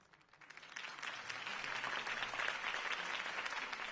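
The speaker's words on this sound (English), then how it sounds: "could have heard that applause" Steady applause from a sizeable crowd in the video game Batman: The Telltale Series, rising quickly and then holding at a dense, even level of clapping throughout.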